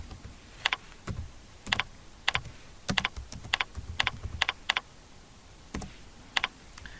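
Short bursts of typing on a computer keyboard while entering a configuration name, crisp close key clicks in uneven clusters with brief pauses, no talking.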